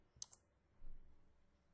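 Two quick, faint computer mouse clicks sound close together in a quiet room while a Windows 10 settings task is carried out, followed by low background hush.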